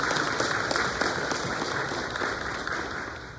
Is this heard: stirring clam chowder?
no